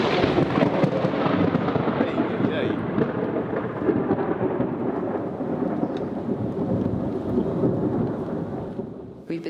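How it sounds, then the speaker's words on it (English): Heavy thunderstorm over Puerto Vallarta, with dense, steady rain and rolling thunder rumbling loudly and continuously throughout, close and enveloping. "I haven't seen this much lightning since El Salvador."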